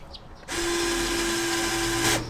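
A power drill whirs steadily for about two seconds, close and loud, drilling holes to mount a truck awning, starting abruptly and stopping at the end.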